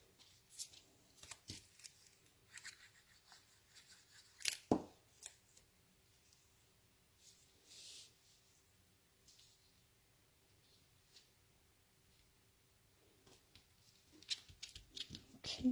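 Card stock for a handmade card is trimmed with a few crisp cuts and paper rustles, sparse and quiet, with gaps of near silence between the bursts.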